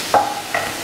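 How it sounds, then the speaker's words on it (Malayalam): Sliced onion dropped into hot oil in a pan for a Kerala fish molee, giving a brief sizzle and a quick stir, close and clear with no talking. "അപ്പോൾ ഞാൻ ഇനി ഇതിനകത്തോട്ട് സവോള ചേർത്ത് കൊടുക്കുകയാണ്."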